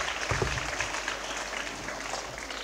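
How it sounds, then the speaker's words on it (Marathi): An audience claps to welcome a newly launched book at an inauguration event, a soft, fairly distant burst of applause that quickly settles into a steady patter. "त्यांच्या आपण सगळ्यांनी जोरदार टाळ्या वाजवून स्वागत करावं"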